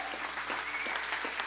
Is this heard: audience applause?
yes